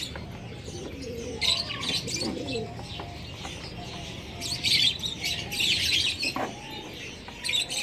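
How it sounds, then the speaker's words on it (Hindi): Fantail pigeons cooing in a loft, soft repeated throaty coos mixed with occasional chirps and brief wing flutters, close by, with no voices over them. "तो ये हमारे जो बच्चे कबूतर बच गए हैं वो हैं"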